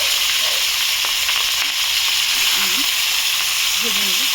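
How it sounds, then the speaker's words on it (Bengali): A loud, steady sizzle of bhetki fish bones frying in hot oil, with faint voices audible underneath. "কাঁটাগুলো এবার ভেজে নেবো একটু।"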